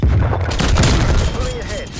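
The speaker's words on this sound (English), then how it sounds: "Throwing frag." A frag grenade explodes in Call of Duty Black Ops Cold War with a loud, close boom. Rumbling battle noise and scattered gunfire continue behind it.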